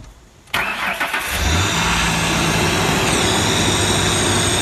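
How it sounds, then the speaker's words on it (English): A car engine cranks and catches about half a second in, then settles into a steady, loud running rumble close by, with no talking. "So anyway, I'm going to get the motor running."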